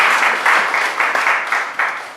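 An audience at a board installation ceremony applauds in a short, lively round, the clapping swelling in uneven pulses before it fades.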